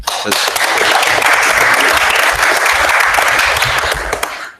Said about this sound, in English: Your Honor deserves a round of applause for that too now